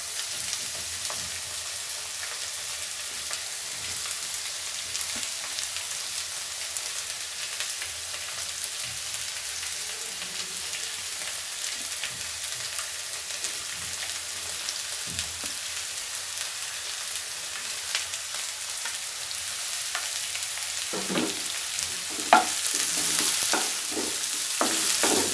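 Carrot, green capsicum, cabbage and chopped onions stir-frying for restaurant-style veg fried rice, a continuous soft sizzle throughout with scraping and stirring knocks growing busier near the end, no talking.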